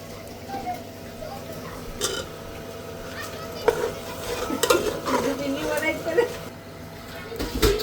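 Potatoes tipped into cooked masala in a pot, with clattering stirring, metal pan knocks and light sizzling building up in the second half, close by, under occasional talk.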